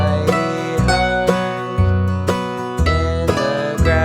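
A mandolin plays a short bluegrass break in even, straight time on the beat, loud and close with crisp regular picked notes and no talking.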